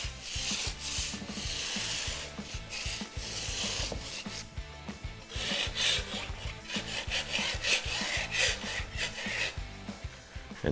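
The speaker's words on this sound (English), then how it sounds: "And then I'll just run the sandpaper over it." Sandpaper rubbing along the edge of a wooden bar top, a close, steady rasping in repeated back-and-forth strokes with a brief pause partway through.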